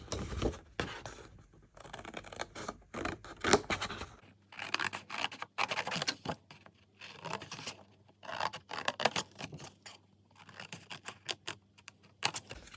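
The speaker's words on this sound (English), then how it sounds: "And then cut the glue flaps a bit." Scissors snip through the glue flaps of a giant paper platform pop-up card, making a close, crisp run of irregular cutting clicks and scratchy paper rustles with short pauses and no talking.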